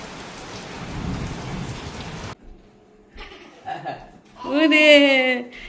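Steady rain falls for the first couple of seconds as a dense even hiss, then gives way to quieter sounds, people talking and a laugh.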